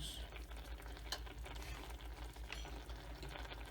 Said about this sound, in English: And we're gonna stir that in.